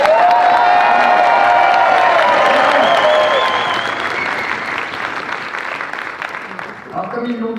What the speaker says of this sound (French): on va pas juste applaudir, on va gueuler, on va taper des pieds, on fait un bordel